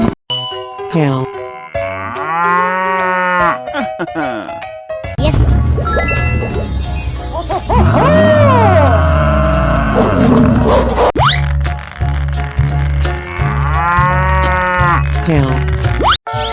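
Cartoon-style cow moos from a children's animal slide game, loud and drawn out, mixed with music, boings and other animal calls that shift through the clip.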